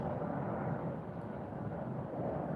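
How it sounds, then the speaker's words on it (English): A large, low-flying jet airliner passes overhead outdoors in mountain country, heard as a steady, loud broadband roar that holds evenly throughout with no talk over it. "That's a big low jet there."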